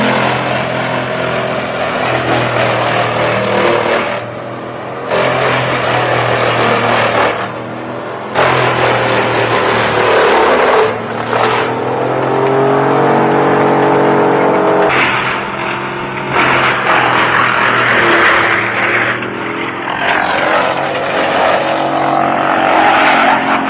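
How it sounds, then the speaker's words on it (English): Industrial monster wood chipper shredding large logs into chips, a loud sustained mechanical roar with shifting engine pitch and grinding surges, briefly dipping a few times as logs are fed. "the chipper immediately grabs hold, its sharp blades spinning, shredding the timber into small,"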